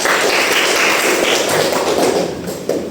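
Students in a classroom clap together for a classmate after a quiz answer, a dense, loud burst of applause lasting a few seconds before tapering off slightly at the end.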